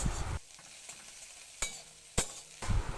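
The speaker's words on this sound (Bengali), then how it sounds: "এটাও ভালো করে নাড়াচাড়া করে নিচ্ছি। সুন্দর করে ভেজে নিলাম।" Onion and chili fry in hot oil while being stirred. A burst of sizzle comes first, then a quieter stretch with two sharp utensil scrapes, and the loud sizzle returns at the end.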